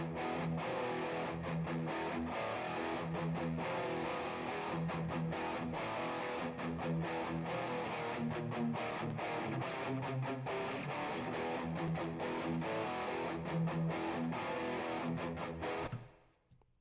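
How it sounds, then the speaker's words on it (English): Distorted 1980s-style heavy metal rhythm electric guitar with reverb, dense chugging chords played continuously at steady volume, cutting off with a short reverb tail at the end. "Okay, so here is the rhythm channel"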